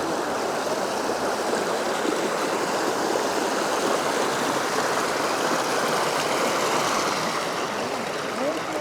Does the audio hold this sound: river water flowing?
yes